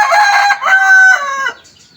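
A fighting cock crows loud and close at a backyard Thai gamecock stable, one long strained call broken by a short catch midway and trailing off near the end, with no voices.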